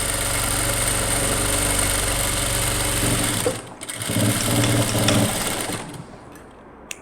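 A sewing machine stitching the side seam of a churidar runs in a loud, steady whirring hum, pauses briefly, then runs again before winding down.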